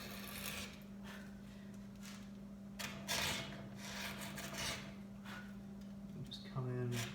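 Sharp hand chisel pushed through soft wood without a mallet, giving soft scraping cuts in short irregular strokes over a faint steady hum, with a person speaking partway through.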